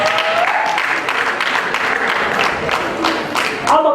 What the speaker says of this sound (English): Can we clap hands for that?